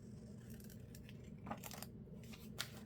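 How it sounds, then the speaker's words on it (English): Scissors snip through paper while making a folio, a few faint, quick cuts over a low, steady background hum with no talking. "and then cut it with my scissors"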